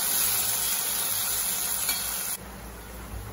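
Chopped onion and tomato fry together in a pan with a steady, close sizzle and hiss that stays level, then drops slightly softer near the end.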